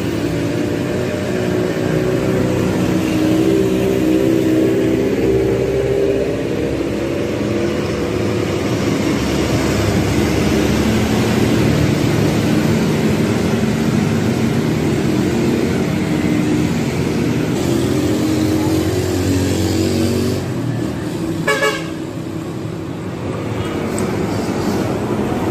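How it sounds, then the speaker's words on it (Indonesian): A Laju Utama bus on the Sukabumi–Bekasi route drives through Pamuruyan, Cibadak, with a steady loud roadside rumble of engine and traffic and a short hiss near the end. "Bus laju utama Sukabumi Bekasi melintasi Pamuruyan Cibadak."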